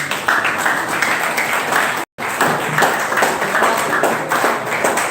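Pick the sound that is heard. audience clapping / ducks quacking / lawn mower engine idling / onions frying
audience clapping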